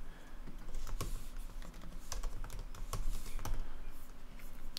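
Fast clicking keystrokes on a computer keyboard, close and moderately loud, arriving in irregular bursts with a few sharper taps, and no voices.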